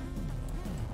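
Insects buzzing around hives in the video game The Legend of Mata Nui, a close, loud, wavering drone with wing-beat pitch sliding up and down, heard alone.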